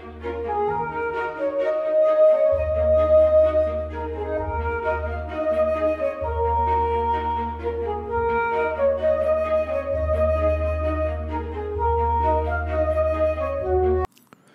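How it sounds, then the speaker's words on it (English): Layered instrumental music from the AIVA music engine with auto-staccato enabled plays steadily, with short detached melody notes over a sustained low bass line, stopping abruptly near the end. "When enabled, auto-staccato sounds something like this."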